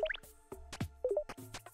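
Water drips in the video game Forager, a quick series of soft, close plinks and plops at uneven intervals, with no talk over them.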